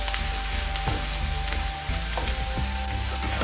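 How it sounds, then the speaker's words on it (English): Grated ginger and garlic sizzling in hot oil in a pan: a dense, continuous crackling sizzle with scattered pops, steady and close, over a low background hum. "Now I am adding grated ginger and garlic. Make it golden brown."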